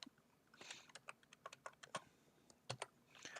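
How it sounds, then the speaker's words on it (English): Keys clatter on a computer keyboard in quick, uneven bursts of clicks with short pauses between them, fairly quiet and close, with no talking. "And now we're really gonna see Frank's bad typing."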